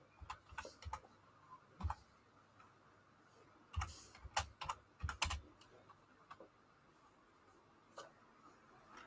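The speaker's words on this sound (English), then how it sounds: "And I'll type it here." Keys on a computer keyboard clack in quiet, irregular bursts, close and fairly faint, with short pauses between the clusters of strokes and no speech.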